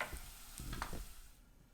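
Garlic frying in a pan for a cracked wheat pilaf, a soft steady sizzle with a few brief stirring scrapes, faint and close, with no voices.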